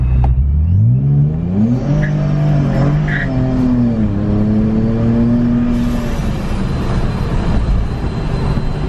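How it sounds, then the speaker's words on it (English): An SRT car on Nitto tires accelerating hard, the engine rising in pitch through a steady pull while a continuous high tire squeal runs alongside, loud and close throughout. "you heard the Nitto squealing the entire time"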